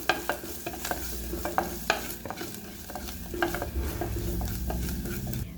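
Spices stirred together in a clay cooking pot for misal, a steady scraping stir with light sizzling close up, no voices.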